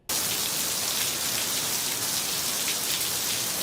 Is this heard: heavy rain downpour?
yes